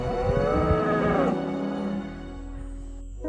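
Cows moo on a farm in Galicia, Spain, a loud, drawn-out low call with rich harmonics that swells and then fades over a few seconds, standing alone without talk over a steady low background rumble.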